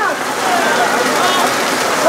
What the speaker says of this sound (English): This rain, as intense as it is